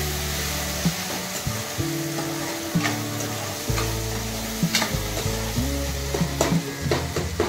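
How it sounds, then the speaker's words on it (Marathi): Crushed chili sizzles in a hot pan during a Marathi shepu (dill) vegetable dish while being stirred, giving a loud, continuous frying hiss broken by scraping stir strokes and no voices. "फिरवून देते."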